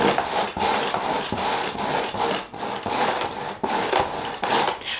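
A person rakes their hand repeatedly against a cat scratching post, making rough, close, rhythmic rubbing strokes about once a second with no talk.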